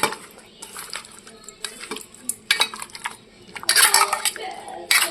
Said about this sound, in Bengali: যাতে মশলাটা পুরো মাছের গায়ে লেগে যায়, সেইভাবেই মাছটাকে মাখাতে হবে।